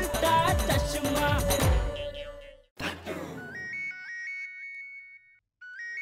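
An incoming call's phone ringtone chimes in repeated bright melodic phrases, loud and clear, following a burst of music and pausing briefly before ringing again.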